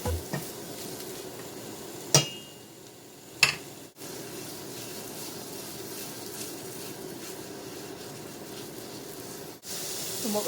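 Food sizzles in a pan while a vegan poutine is being cooked. A steady, soft hiss runs throughout, with a few sharp utensil clicks near the start.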